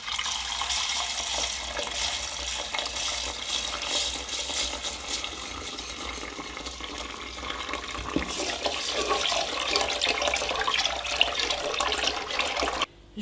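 Tap water running steadily into a bowl of basmati rice being rinsed, a close continuous splashing rush with grains stirred and sloshed, stopping abruptly at the end.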